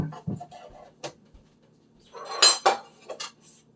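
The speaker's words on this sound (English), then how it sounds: "Now, a smaller knife is usually a little bit more helpful for that." A knife works through leftover food, with scattered clinks and scrapes of metal against a plate or board, quiet taps early and a louder cluster of sharp clatters near the end.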